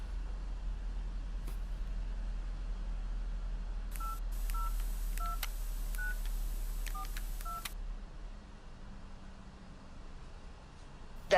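Mobile phone keypad dialing a number, a quick series of about nine distinct touch-tone beeps in an irregular rhythm, close and clear over a low steady rumble of idling vehicles at a busy station.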